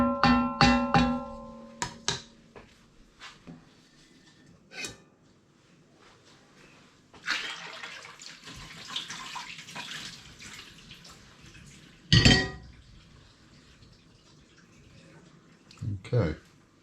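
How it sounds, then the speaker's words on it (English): Contents scraped from a trash find being emptied into a sink with water: a clatter of knocks, a long rushing pour and splash, then a few sharp clunks against the basin, close and moderately loud. "I'm just going to empty the contents into the sink"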